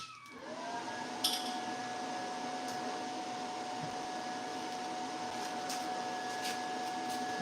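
TIG welding machine in a shop powering up: a steady fan-like whir and electrical hum rise at the start and hold at a constant pitch, faint and continuous, with a small click early on.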